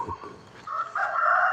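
A rooster crows once in the grounds of Wat Pong Chai temple in Chae Hom, Lampang, in the morning; the rising, sustained call is fairly close and clear, with light ambient rustle before it and no talking.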